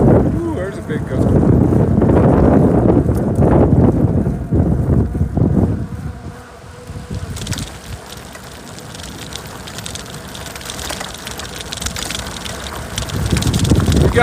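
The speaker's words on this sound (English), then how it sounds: "Ooh, there's a big gust." Strong wind gusts roar and buffet the microphone during a bicycle ride through a severe thunderstorm in northern Nevada, loud and sustained, easing briefly before surging again, with someone talking.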